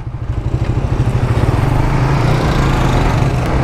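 A 2017 Suzuki GSX S150 motorcycle engine drones steadily while riding, its rapid pulsing exhaust beat loud and close over rushing wind noise, holding an even cruising pace with no voices.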